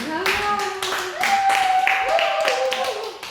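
A church congregation claps during a Sunday service gift presentation, a few bursts of hand clapping from a moderate-sized crowd mixed with voices speaking over them.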